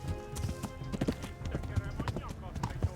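Horse hooves gallop in the Kingdom Come: Deliverance video game, a steady rhythmic clip-clop of repeated thuds at moderate distance, heard under someone talking.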